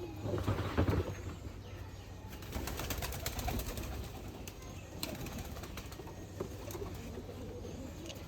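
Pigeons coo softly amid a steady, noisy background, with low repeated calls and occasional rustling throughout.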